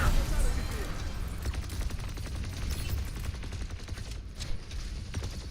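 Rapid SMG gunfire from a fast first-person shooter match of Overwatch 2, a steady crackling burst running through the whole stretch amid busy game effects and a faint voice underneath.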